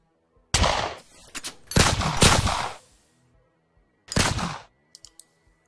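Gunshot sound effect in a sound design session: three sharp, loud blasts with decaying tails, the first two close together and the third after a pause, followed by a few faint clicks.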